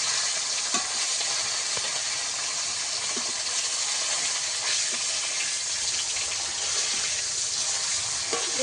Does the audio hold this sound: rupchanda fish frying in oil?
yes